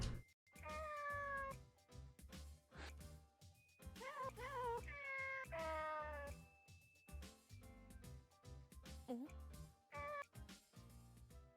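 Cartoonish cats meow repeatedly in the video game Nights of Azure, several bright rising and falling cries over a busy, rhythmic game-music backdrop.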